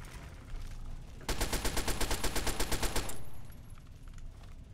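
A gun in Fallout 3 fires a rapid, evenly spaced burst of about two seconds, loud and close, then cuts off into quiet background.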